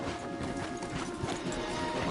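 Horses clip-clop along a wooded trail in Red Dead Redemption 2, the hooves steady and continuous under a dense bed of game ambience, no talking.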